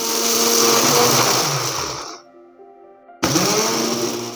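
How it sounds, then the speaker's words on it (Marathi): A mixer grinder whirs loudly, grinding cooled rice into coarse semolina, stopping abruptly for about a second before roaring back at full speed. "आपले हे तांदूळ थंड झाले तर आपण ह्याचा मिक्सरला रवा काढून घेऊया"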